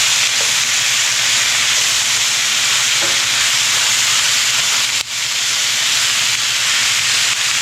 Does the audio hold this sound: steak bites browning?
yes